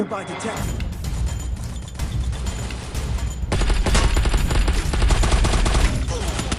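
Video game gunfire from a match played with no weapon skins: dense, rapid bursts and volleys of shots, growing louder and heavier midway, with a voice talking over the shooting.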